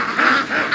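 Several ducks quack in a loud, continuous chorus close by, the nasal calls rising and falling in overlapping bursts as the free-range flock comes back from the lake.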